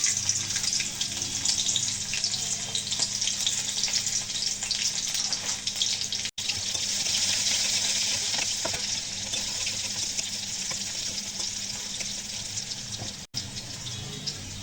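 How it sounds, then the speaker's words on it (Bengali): Onions frying for haleem in a pan, a loud, steady sizzle that runs continuously and close up, with no talk. "পেঁয়াজ কিছুটা ভাজি ভাজি হয়ে গেছে"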